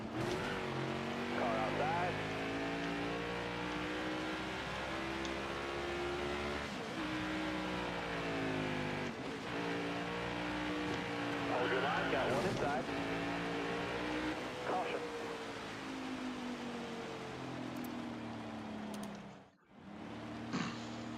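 Race cars roaring around the track in a NASCAR video game, a steady loud engine drone with shifting pitch as cars run close together, continuing for the whole stretch before a brief dip near the end; a voice talks over it.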